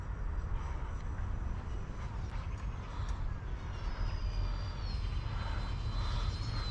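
A UMX A10 Thunderbolt RC model airplane flies overhead with a continuous whirring electric motor drone. A thin whine rises and falls in pitch as it maneuvers, and no talking is heard.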